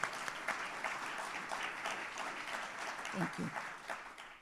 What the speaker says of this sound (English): So I think a round of applause is well deserved.